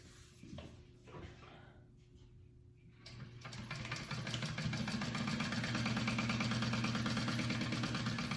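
A sewing machine stitches the sides of a slip pocket for a Colette Bowler Bag at a 3/8 inch seam allowance. A few quiet handling clicks come first, then a steady, close, continuous motor whir runs to the end.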